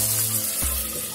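Tomatoes and curry leaves sauté in a pan for sundakkai kara kuzhambu, a steady bright sizzling hiss that continues close and even, with a faint low tonal hum underneath and no speech.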